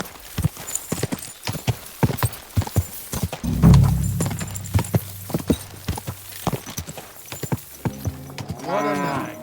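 In the medieval video game Kingdom Come Deliverance 2, a horse's hooves clip-clop in a steady rapid rhythm on hard ground. A brief whinny and some jingling harness sound near the end.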